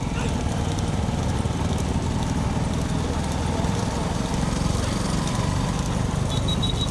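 Bulls pulling carts gallop in a bullock cart race, a dense, loud rumble of hooves and wheels with constant crowd and engine-like noise, no clear single beats.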